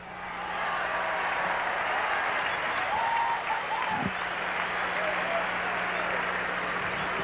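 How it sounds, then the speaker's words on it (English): Baseball crowd at a Mets at Astros game applauds a fan's catch of a foul ball in the loge seats, a steady broad wash of clapping and cheering from the stands, with voices mixed in. "The fans applaud a nice catch by somebody in the loge seats"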